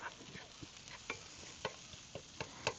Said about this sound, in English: Sure you hear the sizzling.